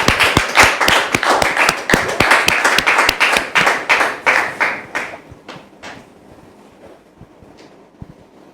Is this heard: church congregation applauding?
yes